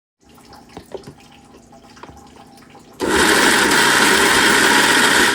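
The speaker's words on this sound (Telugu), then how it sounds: "ఇక మిక్సీ పట్టడానికి బియ్యం ఉన్న పప్పు ఎత్తాను." A mixer grinder starts up and roars loudly and steadily, grinding soaked rice and dal with water into dosa batter, after a few quiet kitchen clinks.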